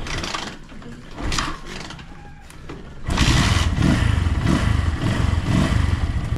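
Clattering and mechanical thumps as a Keeway Cafe Racer 152 motorcycle is kickstarted, then the engine catches and settles into a loud, steady idle close by.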